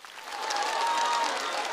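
Audience applause at a televised street dance competition, a steady wash of many hands clapping that swells in the first half-second and holds at a full, even level to the end.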